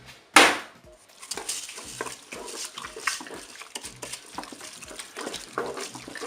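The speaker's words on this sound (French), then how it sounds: "Je vais ajouter maintenant les 120 g de riz." Dry rice pours into a Cookeo multicooker pot while chili con carne is being made. A sharp rattle at the start gives way to a soft, continuous patter of grains with small clicks, close by and without talk.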